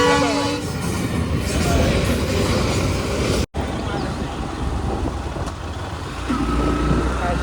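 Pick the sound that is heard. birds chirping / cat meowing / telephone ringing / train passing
train passing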